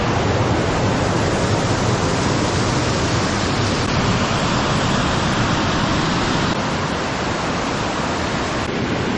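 A waterfall on a Utah trail rushes loudly and steadily, a dense, unbroken roar of falling water close by with no pauses, no voices heard.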